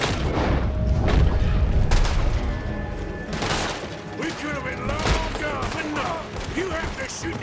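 Gunfire in Red Dead Redemption 2 during a town shootout: rapid overlapping shots and booming blasts, loud and close, with shouting voices and game music underneath.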